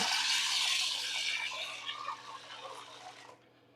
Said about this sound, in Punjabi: ਇਹ ਆਪਾਂ ਧੋਣ ਲਈ ਪਾਣੀ ਪਾ ਦਿੰਨੇ ਇਹਦੇ ਵਿੱਚ